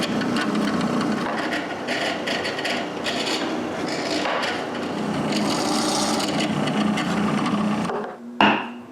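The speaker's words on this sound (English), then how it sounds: "I mark the lid and drill some screw holes" A drill bores screw holes into the wooden lid of a small round box, giving a close, continuous grinding and rubbing whir that ends with a short sharp knock.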